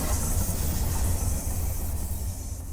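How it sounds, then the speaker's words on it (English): A train rumbles past in the horror game Shed 17, a dense, steady roar of wheels and engine with heavy low-end rumble, loud and continuous with no voices over it. "You hear the train"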